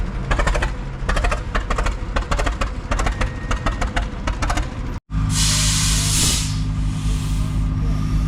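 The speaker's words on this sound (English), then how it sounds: "they're using air to get that thing to turn over so they can get it started" Compressed air forced into a big two-cylinder Fairbanks Morse stationary engine sets up a fast, loud rhythmic chuffing, then a brief gap gives way to a strong steady hiss of rushing air, close by at an outdoor threshing show.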